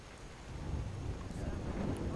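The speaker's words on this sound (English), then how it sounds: "Can barely hear her over the thundering sound of thunder." Thunder in the video game Skyrim, a continuous low rumbling roar that swells slightly over a couple of seconds, broad and steady like a storm, with no voices over it.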